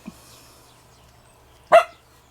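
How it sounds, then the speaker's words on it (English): A single short dog bark rings out indoors near the end, after a faint yip at the start, over a quiet room on a rainy day. "don't know what she's barking at, because there's nobody there"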